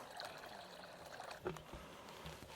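Water trickles from the tap of an 8-litre water container outdoors, a faint, steady flowing dribble lasting a couple of seconds with no talk.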